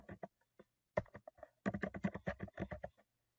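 Keys clicking on a computer keyboard as a word is typed into a spreadsheet cell, a few scattered taps followed by a quick run of about a dozen close, soft keystrokes, then stillness.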